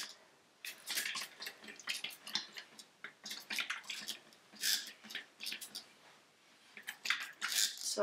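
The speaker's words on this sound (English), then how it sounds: "I just want a little bit of water, so I'm gonna spray it around like this." Water sprayed in repeated short bursts over merino wool fibres being prepared for giant hand knitting, a close hissing spritz that starts and stops irregularly with pauses between.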